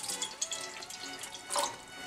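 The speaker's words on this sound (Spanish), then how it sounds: "vamos a poner el agua, un poco de agua acá." Water is poured into a pot for ginger lemonade with ginger root and cinnamon, heard as a faint, brief trickle and splash with a slightly louder burst near the end.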